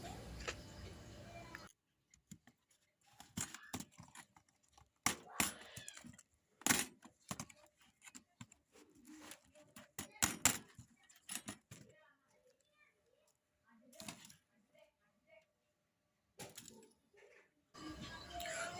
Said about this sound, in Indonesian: dicongkel pelan-pelan, baru kita kletek seperti ini ya.